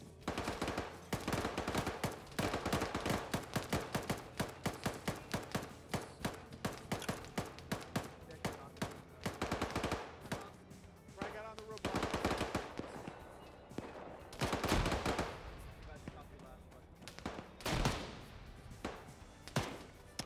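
Rapid automatic gunfire from a team-based military shooter game, loud, near bursts with many sharp shots in quick succession and brief pauses between volleys.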